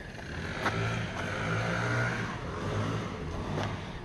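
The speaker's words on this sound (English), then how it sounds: "he's blowing off, it's the BR600 blower" A Stihl BR600 backpack leaf blower roars steadily nearby, blowing grass clippings off an edged lawn, with a constant airy whoosh and slight rises and dips in engine pitch.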